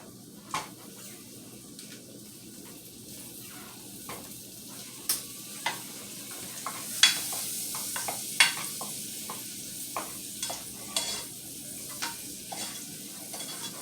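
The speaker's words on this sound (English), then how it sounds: "my onions done got translucent, so now I'm about to add my butter" Butter added to translucent sautéed onions for a seafood boil, giving a soft steady sizzle in the pan with scattered sharp clicks and scrapes of a utensil stirring, fairly quiet and close.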